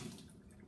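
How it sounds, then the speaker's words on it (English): Hands are washed under a running kitchen tap, a short, faint splash of flowing water heard close by with no talking. "let me wash my hands"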